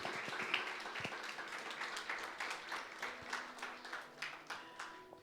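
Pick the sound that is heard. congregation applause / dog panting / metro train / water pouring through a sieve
congregation applause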